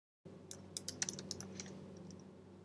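Fast typing on a computer keyboard while entering reStructuredText formatting, a quick irregular run of light close clicks over a soft steady hum.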